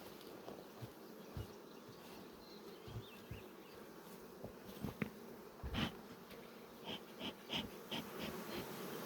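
Honeybees from an aggressive colony drone steadily at an opened hive during a spring inspection, with a low, close buzz running throughout and some sharper nearby flyby surges and knocks.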